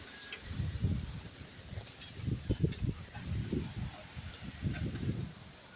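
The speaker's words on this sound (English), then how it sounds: "You can hear all the wind blowing." Wind gusts through a backyard garden in a soft, rumbling rush that swells and fades in repeated waves, faint and fairly steady, with no talk.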